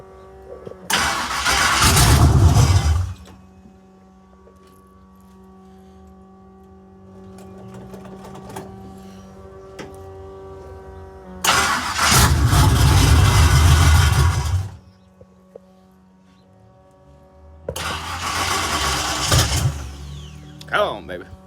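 A Chevrolet Monte Carlo's engine is cold-started, with three separate bursts of loud, fast starter cranking split by quieter gaps of idle-like hum, and a voice speaks between attempts.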